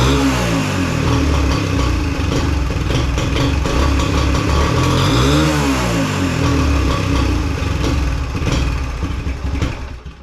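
A 2021 Suzuki DRZ 125 motorcycle engine, running rough and reluctant to rev up, runs loud and close, swelling into one rising-and-falling rev mid-clip before settling back and fading slightly at the end.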